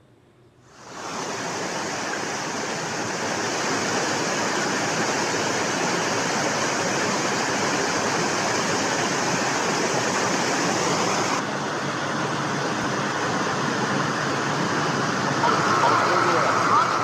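Heavy rainwater torrent pouring down after flooding in the Doda, Kishtwar and Ramban area, a loud, steady, broadband rush of water that swells in after a quiet start and continues unbroken throughout.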